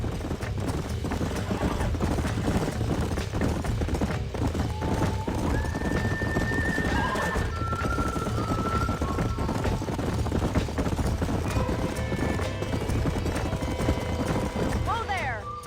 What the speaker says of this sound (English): Whoa there. Well done, Mr. Marston. These are fine horses.